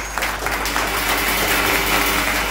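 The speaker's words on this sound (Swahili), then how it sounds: "Mtu ampatie Yesu makofi mazuri kwa msamaha wa dhambi" A church congregation claps for Jesus during an archbishop's Swahili sermon, a steady dense wash of applause filling the room with a low constant hum underneath.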